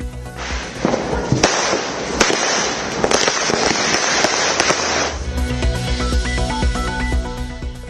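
Firecrackers burst one after another during nighttime Diwali celebrations in Delhi, a dense, continuous crackle of sharp pops with several louder bangs standing out, running steadily for about eight seconds with no talking.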